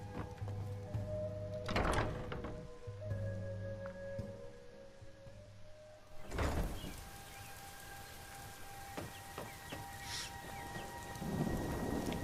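Steady rain falls in the Skyrim video game, with sharp thunder cracks rumbling near 2 and 6.5 seconds over a continuous wash of rainfall and a faint ambient drone.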